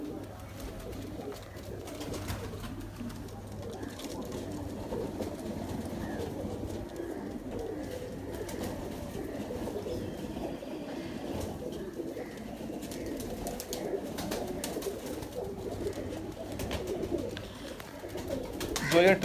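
Golden pigeons, a large female paired with a golden male, coo steadily and close by in a loft, with soft repeated calls and some bird chatter filling the background throughout.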